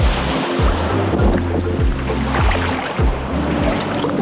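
Ocean waves break steadily on a white sand beach in Guatemala on a windy afternoon, a continuous rolling surf wash with repeated low surges, close and fairly loud, with no voices.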